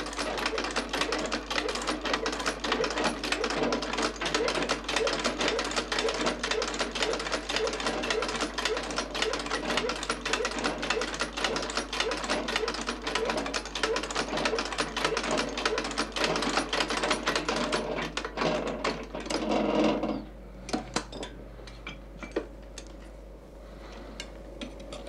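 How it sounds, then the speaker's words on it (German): A sewing machine stitches the back pieces of a leather shoe upper in a shoemaker's workshop, a steady, close rapid mechanical chatter running for about twenty seconds before stopping abruptly, leaving a quiet hum. "Auf der Nähmaschine steppt Josef Esser zuerst die Hinterteile des Oberleders"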